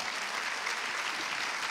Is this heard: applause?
yes